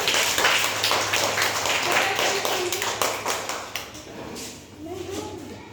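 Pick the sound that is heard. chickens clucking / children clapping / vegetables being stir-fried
children clapping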